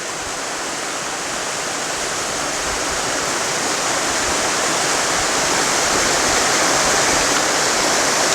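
A large, second-tier waterfall pours with a loud, steady broadband roar that builds slightly over the span, close by with no voices.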